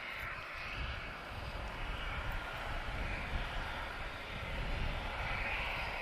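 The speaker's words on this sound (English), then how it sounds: "We've got an A320 TAP Portugal, not a Neo this one. So just a standard A320" TAP Portugal standard Airbus A320 airliner on approach to Lisbon Airport, a steady, loud jet engine roar with a broad whine that holds evenly throughout, no voices.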